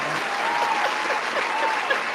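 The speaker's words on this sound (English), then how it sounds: "we have to give Mecca a round of applause" A community gathering gives a steady round of applause for a woman named Mecca, with even, moderately loud clapping throughout under faint background tones.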